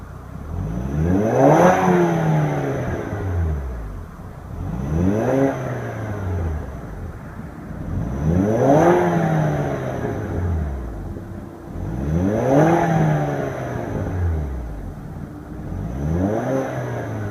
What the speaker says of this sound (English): Let's go ahead and give it a few rev and let you listen to the exhaust sound.